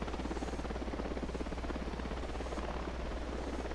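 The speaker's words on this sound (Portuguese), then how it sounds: "Helicóptero no chão." Helicopter sitting on the ground in the video game Ghost Recon Wildlands, its rotor giving a continuous rapid rhythmic chop over a low engine drone, steady and moderately distant.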